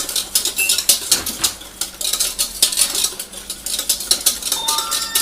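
A whisk or spoon clatters rapidly against a bowl while mixing a caramel ice cream base, giving quick, uneven scraping taps up close with no talking.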